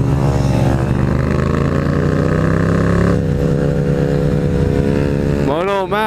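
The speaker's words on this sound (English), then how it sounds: "The exhaust is so loud, but he gets nowhere." A motorcycle held in a stand-up wheelie roars with a loud, steady exhaust drone that sits at a constant pitch, then revs and warbles up and down near the end, close and dominant throughout.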